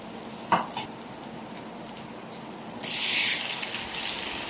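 Chopped ripe tomatoes tipped into a pan of sautéed onions for ampalaya with pork, a soft clatter and low sizzle, then a louder hiss of frying as they hit the hot oil, close and without talk.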